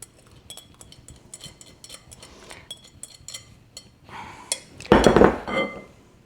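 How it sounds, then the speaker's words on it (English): Wet and dry muffin ingredients being gently stirred together in a bowl, with scattered light clinks of a utensil against the dish and a louder burst of scraping and knocking near the end. "I'm just going to stir those together gently"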